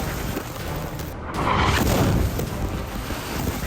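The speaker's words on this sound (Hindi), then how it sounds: "इजरायली मिसाइल का धमाका कितना जबरदस्त है।" A deep, rumbling blast from an Israeli missile strike in Nuseirat, Gaza, swells about a second and a half in, followed by a long roaring wash of debris and wind noise.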